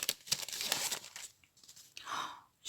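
A handmade greeting card envelope is torn open by hand, giving quiet bursts of ripping and crinkling paper separated by short pauses, with faint breathy sounds nearby.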